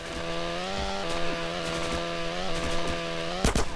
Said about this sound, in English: I'm gonna chainsaw him to dead man